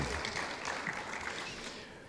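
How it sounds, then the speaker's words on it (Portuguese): Audience applause at an Enaex 2023 panel on artificial intelligence and trade technologies, a steady, dense wash of many hands clapping that holds evenly for a couple of seconds. "Nossos aplausos, por favor."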